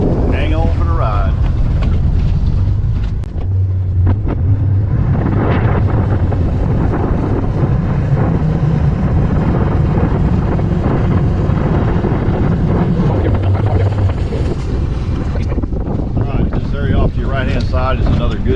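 A fishing boat runs across a pit on a lake, its outboard motor droning steadily under heavy wind buffeting and rushing water, with someone talking briefly near the start and end.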